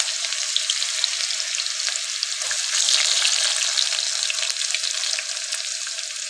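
Chopped onions go into hot oil already crackling with mustard and cumin seeds, with a steady bright sizzle of frying throughout, close and continuous and without talk.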